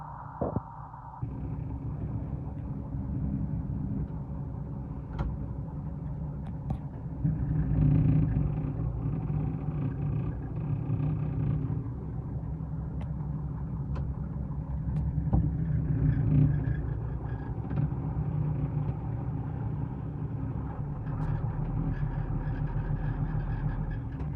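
A Valmet 8050 tractor with a six-cylinder 115 hp SISU engine runs steadily, a continuous low diesel rumble heard close up and alone for the whole stretch.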